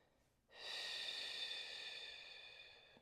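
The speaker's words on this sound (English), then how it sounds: "nice deep breath" A single long, deep breath drawn in close during a mobility workout stretch, starting abruptly and fading gradually over about two and a half seconds, quiet and breathy with no talking.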